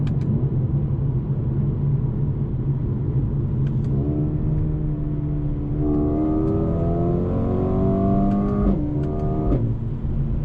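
A 2020 Mercedes-AMG CLA35 engine idles with a deep rumble, then revs up hard several times, its exhaust rising and falling with a few crackling pops.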